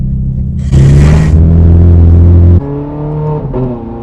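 A Ferrari 430 Scuderia engine revs loudly inside a raw cabin with no sound deadening, held near 4,000 RPM. The close, heavy roar surges, steadies, then drops and rises again.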